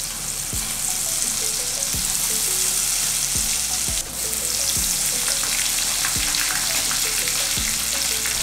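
Leftover chicken fry masala sizzles steadily in hot oil in a Kerala thattukada-style pan, a dense, loud frying hiss with light regular taps from stirring.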